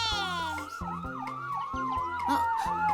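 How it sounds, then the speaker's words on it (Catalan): A fire engine siren wails in a steady rising and falling cycle, loud and close, in an animated children's series, with brief voices underneath. "La sirena dels bombers!"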